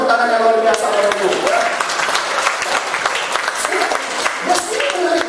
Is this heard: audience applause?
yes